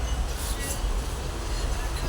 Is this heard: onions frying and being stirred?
no